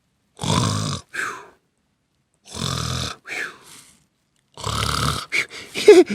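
A voice imitates snoring with three long, rasping inhale-exhale cycles separated by short pauses, loud and close, ending with a quick grunt, in a children's story.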